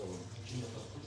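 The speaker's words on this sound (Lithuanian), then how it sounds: "Patys pilam savo alų." Beer streams from a self-serve tap into a glass, a brief close gurgling pour with a voice murmuring faintly underneath.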